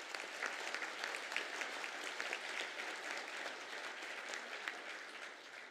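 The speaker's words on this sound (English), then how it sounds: "We might give them a round of applause." Audience at a graduation ceremony applauding the musicians, a dense, steady wash of many hands clapping together, sustained at an even level and heard from a little distance with no talk over it.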